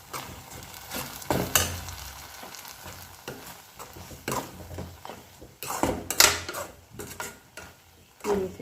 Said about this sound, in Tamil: இப்போ சீனியை சேர்த்து நல்லா மிக்ஸ் பண்ணிக்கலாம்